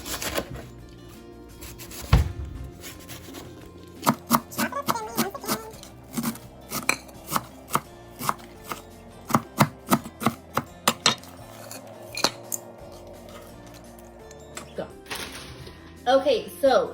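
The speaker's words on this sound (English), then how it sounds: "And you also want to chop up some limes." Limes are cut on a cutting board in a home kitchen with a knife, making a run of crisp, uneven chops that come in short bursts, close and fairly loud.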